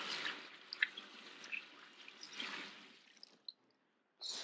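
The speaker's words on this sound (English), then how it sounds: "let's give this a rinse" Kitchen rinsing under running water, soft splashes and drips with a faint hiss of the flow, close and quiet, cutting off briefly before the water resumes.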